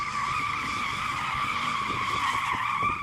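A rear-wheel-drive Mercedes drifts, its tyre squealing and skidding in a steady, loud, continuous screech over engine drone.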